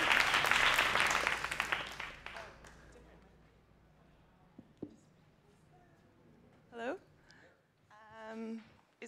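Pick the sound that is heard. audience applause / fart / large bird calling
audience applause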